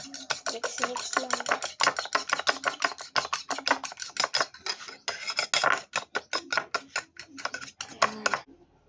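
A utensil beats eggs briskly in a bowl, a fast run of sharp clicking taps close by that continues steadily and then stops, with no talking.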